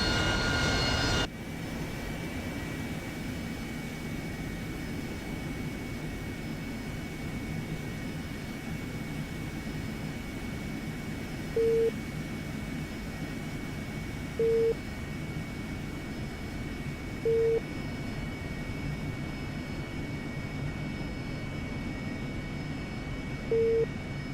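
Harrier jet aircraft engine in a flight video game, a steady low drone that holds at even loudness throughout, with short electronic beeps recurring at intervals of a few seconds.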